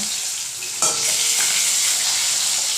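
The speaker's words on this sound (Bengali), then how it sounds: "দেখুন খুব সুন্দরভাবে লাল লাল হয়ে কিন্তু মাছটা ভাজা হয়ে যাচ্ছে।" King fish pieces fry in hot oil for biryani, a dense, close sizzle that jumps louder partway through and then holds steady, with no voices.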